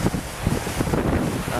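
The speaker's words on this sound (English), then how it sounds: "And it is quite windy out here." Strong wind buffets a sailboat at sea heading away from Moreton Island, a steady broadband roar with microphone gusts and possible wave wash throughout, loud and without talk.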